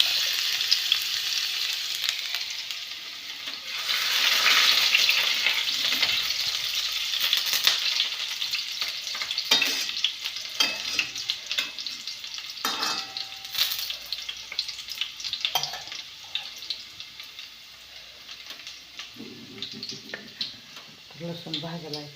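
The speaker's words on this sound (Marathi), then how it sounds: "तेल तापलं या, लसूण घालते" Garlic hitting hot oil in a kadhai (wok), a steady close sizzle with frying crackle and occasional clinks of a spatula stirring, continuing throughout with light handling noises.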